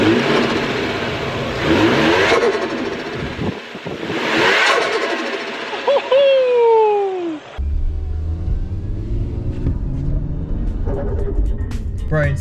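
A turbocharged Toyota 1JZ engine with a modified flutter setup revs hard and loud, climbing and falling in repeated surges and then settling into a throaty idle, with a voice briefly heard over it.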